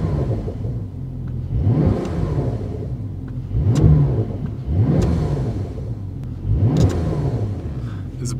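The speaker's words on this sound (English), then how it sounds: "let's rev it a bit. Listen to the sound, BRABUS exhaust mounted." A 900-horsepower 2024 Porsche BRABUS 900R Rocket with a mounted BRABUS exhaust and turbochargers revs in three strong, close bursts that rise and fall over a steady idle rumble, with no talking.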